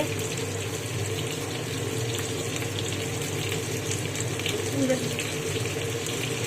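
Vegetables for sukto fry steadily in a pan, a continuous close sizzle and crackle with a constant low hum underneath, voices speaking over it.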